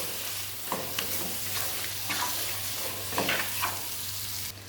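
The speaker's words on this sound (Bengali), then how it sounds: "ভালো করে মিশিয়ে দেবো" About 500 grams of goat meat, for a thin curry with papaya and potato, tossed in a hot pan, a constant close sizzle with repeated scraping stirs and no talking.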